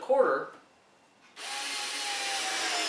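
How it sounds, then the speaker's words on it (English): A brief tool noise gives way after a short pause to a steady, loud whir of a power drill pre-drilling plywood, running continuously up close. "I pre-drill everything because I don't want it to split."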